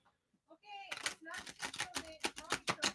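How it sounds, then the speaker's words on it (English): A deck of tarot cards is shuffled by hand in a quiet room, a quick run of crisp riffling flutters and taps after a brief pause, close and fairly loud. "Seems to be shuffling up okay"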